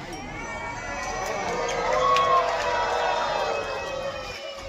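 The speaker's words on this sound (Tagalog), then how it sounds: "Grabe yung sigawan nila." A crowd shouts and cheers after a marriage proposal at Wat Arun in Bangkok, heard from some distance above, a steady, swelling roar of voices that holds for several seconds.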